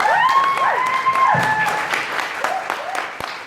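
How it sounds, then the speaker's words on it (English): An audience applauds the speakers at a Web3 event on women's leadership, a steady wash of clapping with whoops and voices rising over it, holding for a few seconds before easing slightly. "please give the speakers a round of applause"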